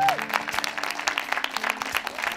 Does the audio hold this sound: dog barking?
no